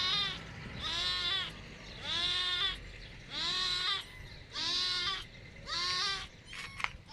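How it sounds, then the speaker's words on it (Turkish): Loud, drawn-out meows from a caged cat at an animal park repeat about once a second, six insistent cries in a row from close by, with brief pauses between. "kedimizde ciyak ciyak bağırıyor."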